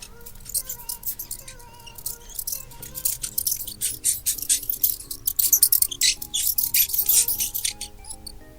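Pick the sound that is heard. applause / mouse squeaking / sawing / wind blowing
mouse squeaking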